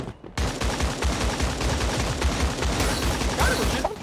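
Rapid, continuous gunfire from the video game Creative Destruction, a dense, loud stream of shots filling the scene with steady rhythm and no pauses.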